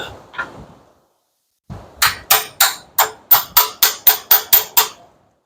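A socket is tapped onto a Toyota Highlander oil filter: after a couple of faint knocks, about eleven sharp metallic taps follow in a steady rhythm, close and loud with no talk.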